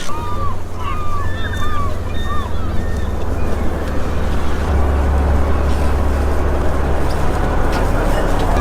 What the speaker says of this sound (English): we just arrived at the harbor and we are going right now on the boat